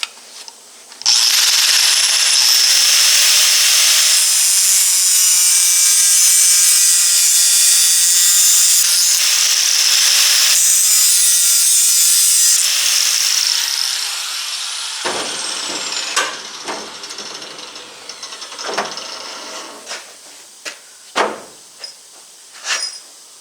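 A power saw cuts off a metal part during bodywork on a 1958 car, a loud sustained high whine with a shifting pitch that stops abruptly, followed by scattered clanks and knocks of metal handling.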